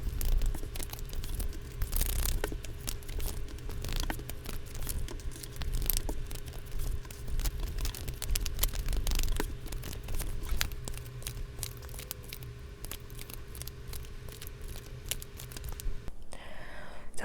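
Tarot cards being shuffled and drawn for a monthly reading, a steady close-up stream of papery rustling, riffling and soft slapping, continuous and even, with a brief quieter pause near the end.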